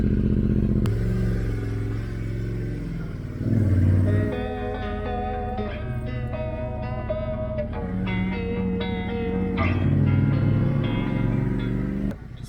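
A KTM motorcycle engine runs steadily at close range, its loud rumbling idle rising into revs and easing back, with a clattery mechanical edge and no talk over it.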